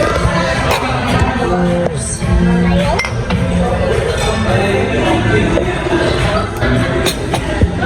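Cups clink together in a toast at a busy Starbucks cafe on New Year's Day 2026, a few light clinks under constant chatter, dish clatter and background noise.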